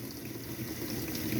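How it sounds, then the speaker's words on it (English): Hot water runs steadily from the sink tap in a Bailey Pegasus Grande Turin caravan under strong pressure, a close, continuous rushing gush with no talking. "Loads of water pressure there."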